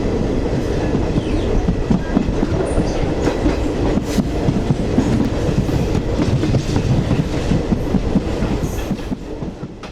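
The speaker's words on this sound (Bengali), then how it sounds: "রামেশ্বরম এক্সপ্রেস এই মুহূর্তে এসে পৌঁছালো রামেশ্বরমে" The Rameswaram Express rolls into Rameswaram station with loud, continuous rumbling and clickety-clack of wheels over the rails, close by, easing slightly toward the end.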